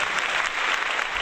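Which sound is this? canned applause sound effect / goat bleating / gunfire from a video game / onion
canned applause sound effect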